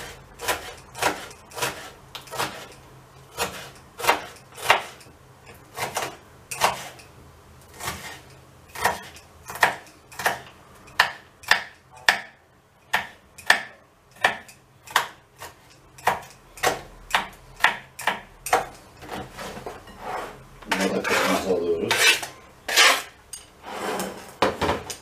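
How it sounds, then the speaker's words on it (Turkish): Green peppers are chopped finely with a knife on a board, rapid uneven taps in quick bursts, close and clear, with a denser clattering stretch near the end and no voices. "İki tane normal yeşil biber. Ufak var. Onları da doğruyoruz."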